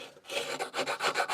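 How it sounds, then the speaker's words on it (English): Hand sanding of a wooden reindeer Christmas decoration made from scrap wood: close, rasping strokes of abrasive on wood in a steady back-and-forth rhythm, about eight passes with short pauses, and no voices. "Right, we'll get sanding"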